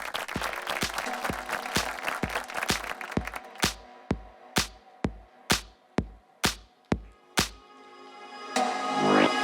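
Audience applause at an awards ceremony starts as a busy patter of many hands, then thins to a few loud, evenly spaced single claps before another burst of sound at the end.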